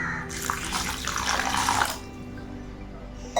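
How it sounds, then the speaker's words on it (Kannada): Water poured over coriander, fenugreek and cumin seeds left soaking in a bowl, a steady close splashing stream for about two seconds that stops, leaving quiet room tone. "ಇನ್ನೊಂದು ಸ್ವಲ್ಪ ನೀರು ಹಾಕೋಣ"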